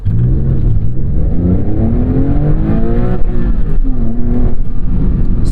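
A 2003 Porsche Carrera 996.2 accelerating, loud and close from inside the cabin, with the engine note climbing steadily through the revs, dropping at gear changes and rising again.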